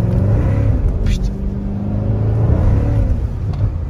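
A 545 hp rear-wheel-drive car accelerates hard on a rain-soaked road, a loud, steady engine roar and drone filling the cabin throughout, with a voice speaking over it.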